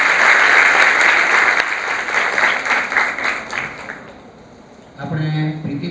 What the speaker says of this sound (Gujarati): જોરદાર તાળીઓથી